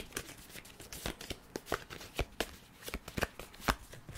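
Pokemon cards being shuffled for a tarot reading, with rapid crisp riffles and snaps in an uneven rhythm, close and clear, with no talking.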